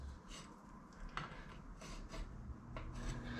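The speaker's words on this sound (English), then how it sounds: "It's starting to get dry where I can file it." Dried JB Weld epoxy filed down on a part of an old Axelson lathe under restoration, a faint close rasping that comes in short repeated strokes over a steady low background hum.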